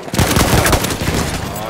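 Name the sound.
automatic weapon gunfire in a video game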